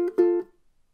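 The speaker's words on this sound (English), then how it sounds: "you'll hear me drop my hand on, just to mute those strings" A ukulele strum played with a punchy feel, cut short as the hand drops onto the strings to mute them, leaving a quick, dry stop and silence.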